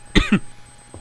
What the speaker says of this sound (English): God, I've got a coughing problem.